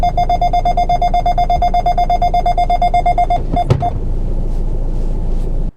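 Loud, rapid electronic beeping from a car parking sensor in a steady repeating pulse, triggered by a motorcycle behind, then it stops with a thump and low rumbling noise continues.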